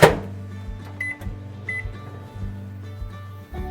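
A microwave oven runs with a steady low hum while heating covered dried squid strips, with a few faint high beeps early on and a continuous mechanical drone throughout.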